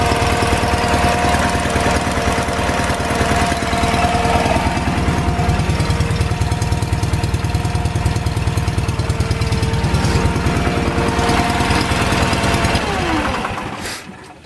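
An Onan engine on a tractor runs steadily, loud and close, with a rhythmic knocking throb that holds even for about thirteen seconds before shutting down.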